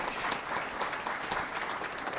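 A small audience at a patient panel claps for hospital staff, a soft, fairly close patter of hands that carries on evenly without talk.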